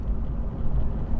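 A Honda e electric car accelerates, producing a steady low rumble of road and tyre noise heard from inside the cabin, with no motor whine standing out.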